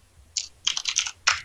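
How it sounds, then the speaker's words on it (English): Computer keyboard typing picked up over online voice chat during a Minecraft session: a few quick clusters of sharp clicking keystrokes at moderate loudness, with short pauses between bursts and no talking. "Why are they typing so much?"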